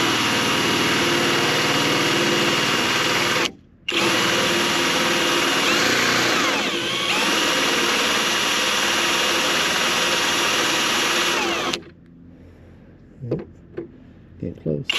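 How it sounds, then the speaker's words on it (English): A power drill with a 1/4 inch bit bores a through hole in a Honda Odyssey van's body for a solar panel mount, a loud steady whine running long with one brief stop, then fading to scattered clicks. "now we're gonna drill the 1/4 inch through hole with this bit, the 1/4 inch bit"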